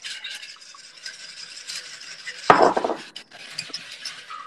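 Olive oil, salt and black pepper get a brief whisk in a bowl in a MasterChef Australia kitchen: soft rubbing and clinking, then a louder scraping burst in the middle before it settles back to light stirring.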